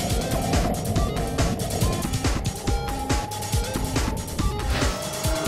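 The Kenguru, a wheelchair-accessible electric car, picks up speed with a steady electric whine, while bumps, rattles and knocks from the cabin and road clatter throughout.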